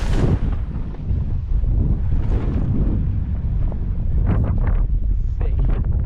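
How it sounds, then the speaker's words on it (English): Strong wind buffets the microphone aboard a sailboat in choppy water, a loud, constant low roar with gusty bursts and splashing throughout. "It's quite windy now."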